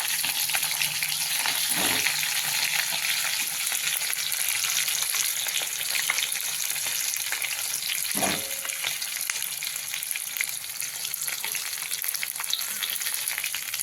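Green chilies with spices sauté steadily in a pan, giving a continuous close sizzle and frying crackle with a few faint stirring scrapes and no talk.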